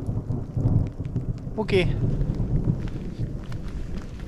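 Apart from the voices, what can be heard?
thunderstorm with thunder and rain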